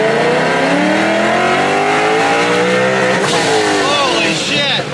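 A tuned car engine pulls hard through second gear up toward 7,500 rpm, a loud, close, continuous rising roar with layered harmonics that eases slightly near the end.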